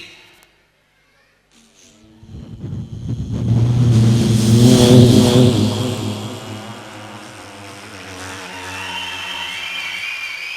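A voice imitates a car engine revving up and roaring past, rising then fading, loud and close, with a brief quiet start.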